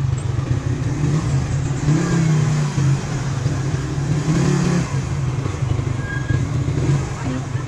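A motorbike engine on a trip to Cantingas Falls on Sibuyan Island revs with a steady low drone that swells and eases, heard throughout under intermittent voices.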